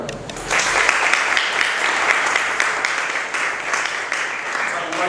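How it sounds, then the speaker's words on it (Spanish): An audience at a forum on the Dominican constitution in Cambita Garabito breaks into sustained, dense applause, loud and even throughout. "Un aplauso para él."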